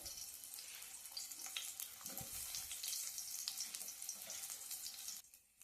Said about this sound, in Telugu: ఆయిల్ వేడెక్కింది, ఆనియన్ వేసుకో